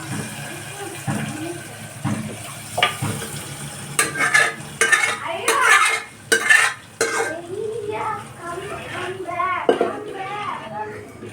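Lentils tipped into a pot of sambar seasoning and stirred, giving scattered clinks and scraping knocks against the metal, busier in the middle, with muffled voices in the background.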